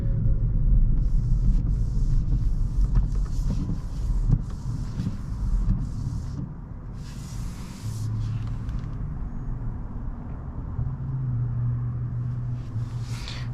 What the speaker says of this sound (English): a little bit of road noise, or tire noise I should say, but not too bad